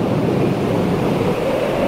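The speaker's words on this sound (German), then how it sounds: "Überall Wellen, die sich bedrohlich um ihn auftürmten." Stormy sea waves crash and roar in a loud, continuous rush of surf and wind, unbroken throughout with no voices.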